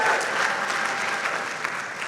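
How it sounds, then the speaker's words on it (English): Graduation ceremony audience applauding, dense continuous clapping from a large crowd filling the short stretch at even loudness. "Give yourself a round of applause."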